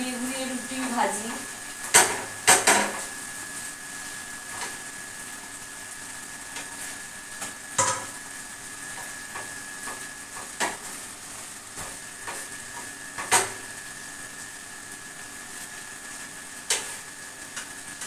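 Roti cooking in a pan and being turned, a faint low sizzle under sparse clicks and knocks of utensil against pan, quiet and intermittent.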